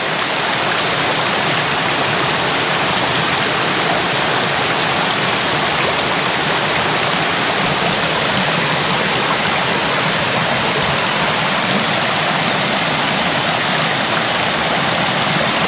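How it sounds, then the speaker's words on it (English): A small waterfall spilling over rocks at Ricketts Glen State Park, a steady, full rushing of water that continues unbroken and close by with no voices. "There's the other little waterfall."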